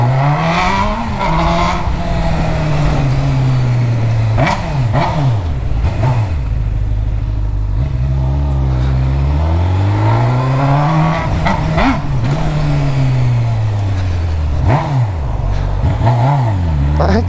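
A motorcycle with a newly replaced drive kit revving and accelerating close by, engine pitch repeatedly climbing and falling through gear changes over a loud continuous roar.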